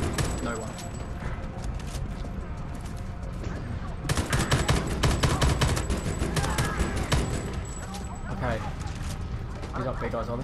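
Dense gunfire from the video game Homefront: The Revolution, loud rapid bursts layered over game music and effects for the whole stretch, growing heavier midway.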